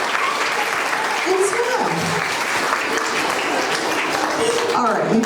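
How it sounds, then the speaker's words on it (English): Students and parents clap together in a school awards room, a continuous wash of applause running the whole time while an adult voice speaks over it near the microphone. "Smile at your parents and clap one more time."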